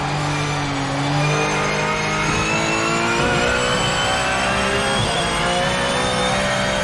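A racing game Aston Martin engine revs high and holds a strained, buzzing drone, pitch climbing slowly through gears, loud and close with no talking.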